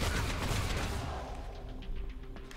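A free fire action in Warhammer 40,000: Deathwatch unleashes a burst of rapid gunfire, dense and loud at first, then tapering into scattered shots and a low rumble.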